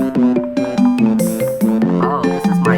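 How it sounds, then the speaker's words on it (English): An Apple iPhone ringtone from iOS plays loud and clear, a bright repeating melodic pattern of tonal notes with a steady rhythm and no talking over it. "Oh, this is my sister's ringtone."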